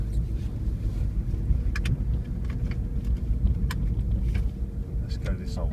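Old Fiat Punto with a failing automatic gearbox driving along, a steady low engine and road drone with wind noise throughout, and occasional faint knocks above the rumble.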